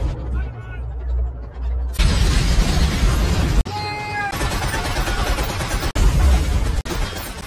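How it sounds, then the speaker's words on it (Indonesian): Bombs go off in a wartime battle as tanks roll into an ambush, followed by gunfire from several directions: a dense, loud wall of explosive noise with abrupt breaks and sharp cracks. "Atas komando Kapten John, bom-bom langsung diledakkan dan tembakan mulai menghujani musuh dari berbagai arah"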